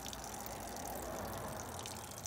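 Water drains steadily out of plastic trim removed from a van during a camper conversion, a faint continuous trickle and splash with no voices.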